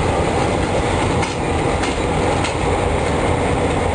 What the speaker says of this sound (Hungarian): megérkezett a helyére vonat